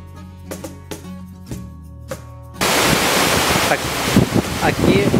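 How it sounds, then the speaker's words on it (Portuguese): River water rushing down a waterfall in the Gran Sabana, Venezuela, starting after a few seconds of music and then a loud, steady broadband roar with wind buffeting the microphone. "Agora a gente está descendo a cachoeira, descendo o rio na verdade."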